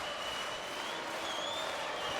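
Crowd roaring in support of the Polish side at a volleyball match in an Olympic qualification tournament, a steady wash of cheering and applause throughout with a faint commentator's voice beneath.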